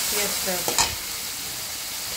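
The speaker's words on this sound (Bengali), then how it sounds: "দিয়ে দিলাম পেঁয়াজ বাটা। পেঁয়াজ বাটাটা একটু ভেজে নেব।" Onion paste mixed with ginger-garlic paste fries in hot oil, giving a constant close sizzling hiss with a brief stirring scrape early on, then an even sizzle.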